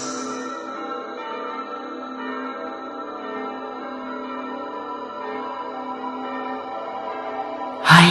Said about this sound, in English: It is the sound of the bell that watches over their lives.